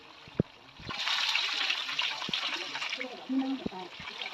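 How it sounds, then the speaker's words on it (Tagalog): Coconut milk poured into a pot for a jackfruit stew, a steady close liquid pour lasting a few seconds with a soft splash, with light kitchen clatter around it. "Lalagay natin itong gata."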